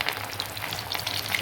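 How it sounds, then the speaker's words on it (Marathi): Pieces of catla fish frying in very hot oil in a pan, a dense close sizzle with continuous crackle and small pops, steady throughout and heard alone. "मस्त कडकडीत तेल तापलेलं आहे बघा"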